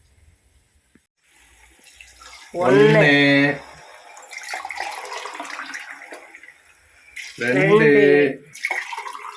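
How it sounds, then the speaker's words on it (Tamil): Water is poured into a cooking pot for rice, a short gushing splash between two bursts of voices, with people talking in the clip. "தண்ணி ஊத்தி கொதிக்க வைக்கிறேன்."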